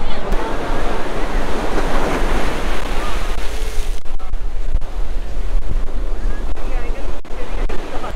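Sea waves wash onto the beach at Old Digha in a continuous loud roar of surf, heavy with wind buffeting the microphone throughout.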